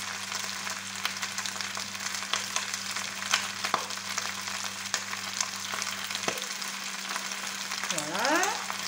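Onion and garlic frying in a pan, a soft steady sizzle with occasional small crackles and clinks, a low hum that cuts out partway, and a brief squeaky sweep at the end.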